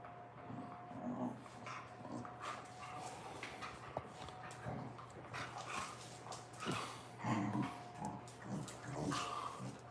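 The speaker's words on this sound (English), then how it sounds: "Dog fights." Dogs scuffling and play-fighting, with whimpers, yips and growly bursts recurring throughout over a low steady hum.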